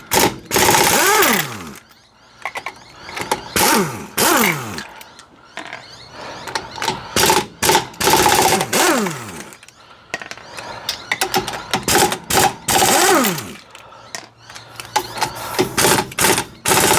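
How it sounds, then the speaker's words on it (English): Pneumatic air impact gun loosening the wheel nuts on a tyre, rattling in repeated loud hammering bursts with short pauses between them, each burst winding down with a whine, close by. "Sure beats doing it by hand. I love that air gun."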